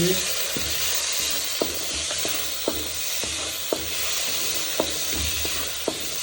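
Tomatoes and green chillies fry with potatoes in a pan for Maggi noodles, a steady close sizzle punctuated by rhythmic spoon clacks and scrapes as the mixture is stirred.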